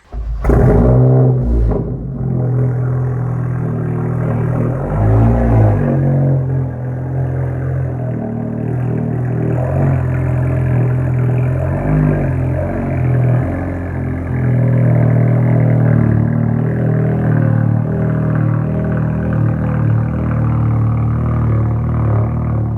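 An Audi A3 engine runs as the car is moved into a garage, with a steady, close, low rumble held for over twenty seconds, a few brief revs near the start and slight swells later, with no voices.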